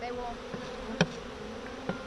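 Low, continuous buzzing of many honey bees at a hive with a few sharper close passes and clicks, fairly quiet and steady.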